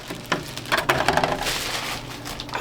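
Packaging for a Hobao Hyper MTX RC car is torn open: a close, loud burst of crinkling and crackling plastic and paper, irregular rustles coming in quick clusters with no talk.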